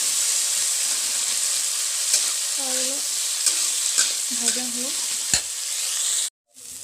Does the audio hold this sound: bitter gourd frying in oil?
yes